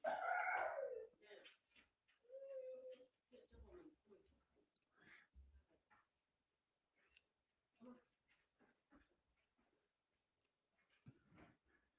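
A dog whines in short, high, nasal bursts indoors. The sound comes and goes between stretches of someone talking, with quiet gaps.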